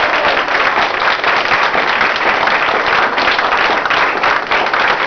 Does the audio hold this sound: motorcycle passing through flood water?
no